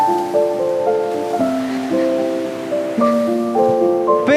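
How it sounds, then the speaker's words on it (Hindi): River water rushes beside a small bridge in Amboli forest as a steady broadband wash, with sustained musical tones layered loudly on top throughout. "साइड इधर नदी का पानी भी जा रहा है"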